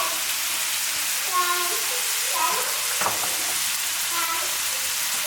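Shrimp sizzling in hot oil in a pan, a steady close frying hiss with light crackles and a few brief clinks, left unstirred for about a minute.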